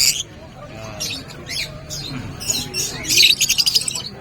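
A lutino pet bird offered for breeding at a crowded pet market squawks and chirps in short bursts, growing busier and shriller near the end, over a background of market chatter and people talking.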